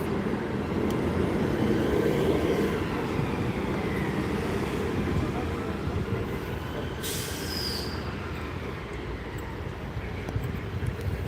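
Class 158 diesel unit arriving at Gloucester station on a Bristol Temple Meads service rumbles in steadily and loudly, with wheel squeal rising briefly near the end and no talk.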